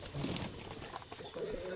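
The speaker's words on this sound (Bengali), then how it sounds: "এটা ওড়া লাইনের কাগজি পায়রা" Soft cooing nearby from a Kagzi flying pigeon, brief low throaty calls with faint background noise.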